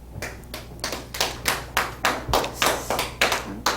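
A short burst of audience applause, a steady run of close, crisp hand claps at an even rhythm, with no voices over it.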